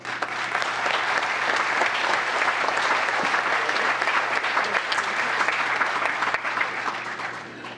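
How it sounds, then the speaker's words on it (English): An indoor audience at a town council meeting applauds, dense steady clapping from many hands sustained loudly for several seconds before tapering slightly. "I would love to give you guys a huge round of applause."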